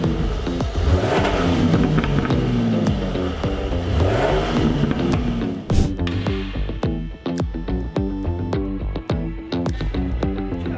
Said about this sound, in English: So this is what the stock exhaust sounds like.